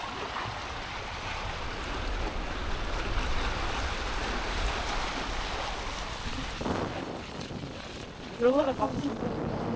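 Rough, stormy sea waves churn and crash amid heavy wind buffeting the microphone on a fishing trip, with a voice briefly speaking near the end.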